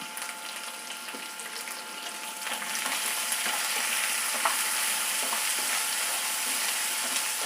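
Cubed onion sautéing in hot oil with curry leaves and a pinch of asafoetida, a constant close hiss that swells louder partway through, with faint stirring and no voices.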